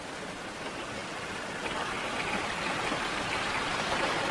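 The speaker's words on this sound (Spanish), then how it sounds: "Un turista filmó el comienzo de una riada por la ventana de su caravana" Rushing floodwater at the start of a river flood in Spain, seen from a caravan window: a steady, broad roar of flowing water that swells slightly louder partway through, with no voices.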